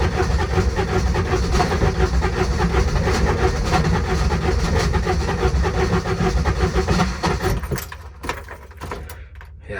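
An Intimidator diesel UTV with a hard-starting fault, its glow plugs seemingly not working, cranks on the starter in a loud, steady, close mechanical churn for about eight seconds before cutting off.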